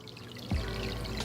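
Water pouring and trickling steadily from a Seachem hang-on-back filter into a home aquarium tank, a soft continuous splash that starts abruptly and continues at a moderate, even level.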